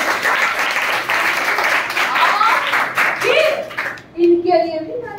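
Dense applause from an audience at a competition gathering fills most of the stretch, a broad steady clatter of many hands, then breaks off as a voice speaks.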